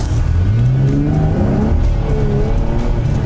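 A car's tires spin and slip on a wet road in 31-degree weather as the engine revs hard, loud and close, with rising and falling whines and a continuous roar throughout.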